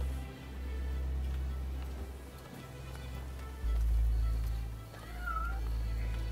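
Cat meowing in the video game Rise of the Ronin, a faint brief meow around the middle of a low rumbling game ambience.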